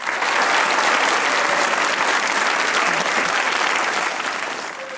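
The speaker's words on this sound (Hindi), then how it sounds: "ज़ारा ने अच्छी बनाई वो तालियां बजा के बताया हमें" A studio audience claps steadily for about five seconds during a Pakistani comedy talk show, the dense, loud applause filling the room before tapering slightly at the end.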